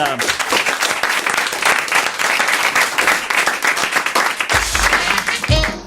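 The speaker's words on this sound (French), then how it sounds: "On vous applaudit, on vous remercie." Studio audience clapping during a French radio game show, loud and continuous for several seconds with the crowd heard close.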